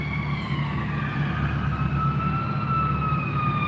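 A siren wails steadily throughout, its rising and falling tones fairly loud and carrying over a low rumble of traffic, with no one speaking.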